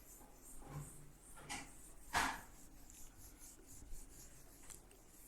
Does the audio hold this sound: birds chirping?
no